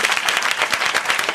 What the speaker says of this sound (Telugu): కొట్టు చప్పట్లు.